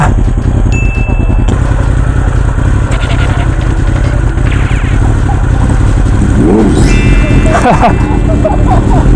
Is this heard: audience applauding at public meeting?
no